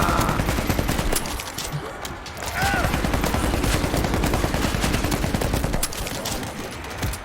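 Rapid, sustained gunfire from the zombie shooter World War Z, with dense overlapping bursts that briefly dip around the second mark before resuming at full intensity, mixed with faint voices.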